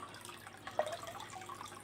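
Water trickles steadily from a plant pot filter into a fish tank, a soft, continuous close-up splashing with a few small drips, faint and alone.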